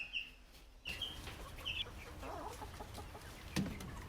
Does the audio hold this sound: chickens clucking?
yes